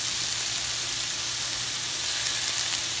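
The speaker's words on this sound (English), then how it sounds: "now I'm putting in my garlic that I've grated" Grated garlic sizzles in a hot pan for a chicken Alfredo, a steady, close, bright frying hiss that carries on evenly with no talk.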